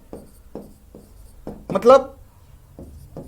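A pen or marker scratches out Maithili words in a steady run of short, evenly spaced strokes, with a brief spoken word cutting in midway.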